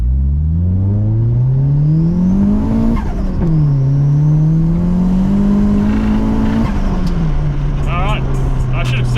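A 1.5 litre turbocharged 2002 Mitsubishi Lancer accelerates hard from 0 to 100, the engine note climbing loudly through the gears with two clear shift dips, heard from inside the car with a voice over it.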